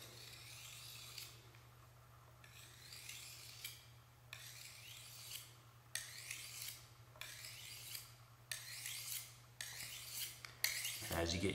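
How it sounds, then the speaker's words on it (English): A knife blade is honed at an angle with repeated rasping strokes, about eight in steady rhythm and growing slightly quicker, each a bright scrape heard close over a low constant hum, with no talking. "then you'll slowly learn to hone that blade on that angle"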